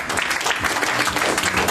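Brief burst of audience applause at a GUKPT poker main event final, clapping for player Fraser MacIntyre, dense and continuous throughout the short moment.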